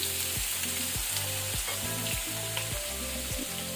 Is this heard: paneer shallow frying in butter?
yes